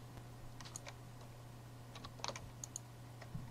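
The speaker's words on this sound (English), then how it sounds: "you're going to type in these two lines here" Quick, faint clicks of typing on a computer keyboard while entering Terminal commands, an uneven run of light key taps over a low steady hum, with no voices.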